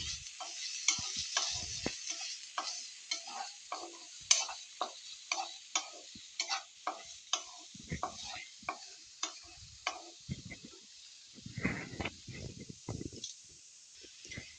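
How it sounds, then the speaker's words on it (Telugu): A spoon stirs chilli and turmeric into a ridge gourd and drumstick curry, a series of regular light scraping taps against the pan over a faint sizzle, close and fairly quiet. "ఒక పావు స్పూన్ పసుపు వేసుకొని ఇవన్నీ మొత్తం బాగా కలుపుకోవాలి"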